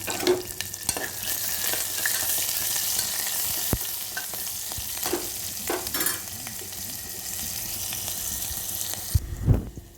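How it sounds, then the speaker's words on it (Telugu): Onions fry with fenugreek leaves in a pan and are stirred repeatedly, giving a loud continuous sizzle with scraping stirs close by and a clatter near the end. "ఇప్పుడైతే ఇందులో ఆనియన్ వేసేస్తున్నా ఆనియన్ అయితే వేసి కలుపుతా కొద్దిగా"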